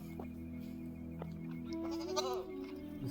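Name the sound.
goat bleating inside a cage at night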